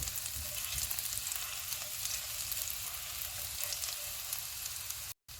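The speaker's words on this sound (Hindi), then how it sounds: "एक मिनट के बाद प्याज डालेंगे, इसको भी 1 मिनट तक भूनेंगे।" Steady, dense sizzle of onion frying in a pan over a medium-high flame for vegetable soup, continuous and close with no talking and a brief dropout near the end.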